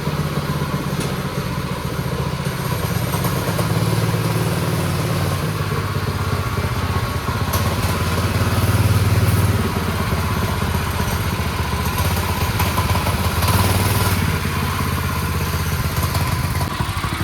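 A small van-based go-kart engine runs steadily at idle, a close, continuous low mechanical drone with light clatter and a slight swell in revving around the middle, with no talking.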